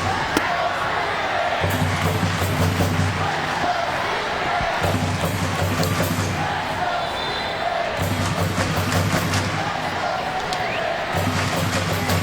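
Stadium crowd at a Washington Spirit versus Portland Thorns women's soccer match, a steady roar of fans with rising swells and rhythmic low chanting, continuous and loud throughout.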